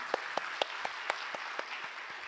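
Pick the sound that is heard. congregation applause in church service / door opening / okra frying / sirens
congregation applause in church service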